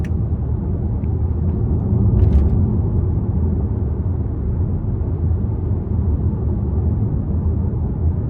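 Steady low road rumble inside the cabin of a 2017 Lincoln MKC 2.0 turbo while driving, with faint wheel and tyre noise blended into a constant, even drone and no talking.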